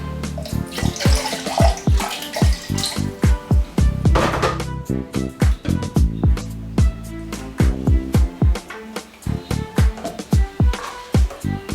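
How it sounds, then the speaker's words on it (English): Water poured into a cooking pot of ayoyo leaf soup for tuo zaafi, a steady near splashing stream with rhythmic tapping and clinking running under the pour throughout. "I'll add more water."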